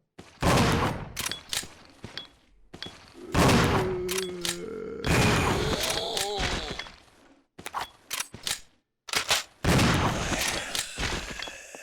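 Gunfire in the game Resident Evil 0, loud clusters of shots separated by short silences, with some impact thuds and a creature-like tonal cry between bursts.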